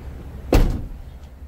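The door of a 2009-2014 Ford F-150 pickup swings open with a single sharp, close mechanical clunk of the latch. A few moments of quiet cab ambience follow.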